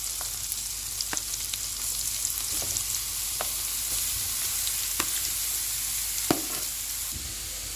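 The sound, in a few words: onion and radish frying in butter in a pan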